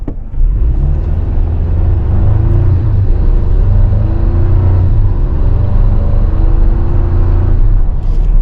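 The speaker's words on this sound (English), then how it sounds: "Take off, see how she does." A 2024 Toyota Tacoma SR5 4x4 pulls away on the road, its engine giving a steady low rumble that rises gently as the truck gathers speed, heard from inside the cab.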